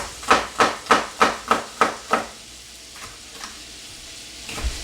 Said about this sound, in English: the fat from the olive oil, the fat from the chicken, and the fat from this butter will cook on down